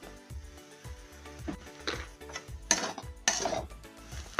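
Dry masala being stirred and roasted in a cooking pan, with a series of scraping, clinking strokes of a spoon against metal at an irregular rhythm, louder bursts near the end and no talk.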